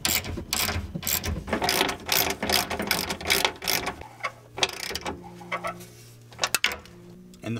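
A ratchet wrench clicks rapidly while tightening body bolts on a Volvo 850 Turbo radiator, dense bursts of ratcheting for four seconds, then slower scattered clicks and a few knocks, close up with no talking.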